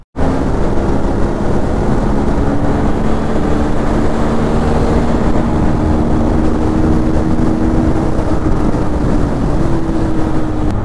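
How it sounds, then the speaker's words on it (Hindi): A BMW RR 310 motorcycle engine starts up and settles into a loud, steady idle, with a constant drone and faint wind rumble close to the microphone throughout. "ये मैंने ऑन करी बाइक, अब कई बार अपना आप स्टार्ट हो जाती है"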